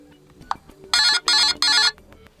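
Alarm sound on a MEDIATEK KT107 phone, three bright, evenly spaced ringing bursts in quick succession after a soft click, loud and close.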